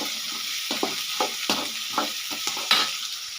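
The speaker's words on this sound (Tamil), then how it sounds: "வெங்காயம் நல்லா வதங்கட்டும்" Onions sautéing in a pan, a steady hissing sizzle punctuated by a regular series of close stirring scrapes roughly every half second, heard alone without speech.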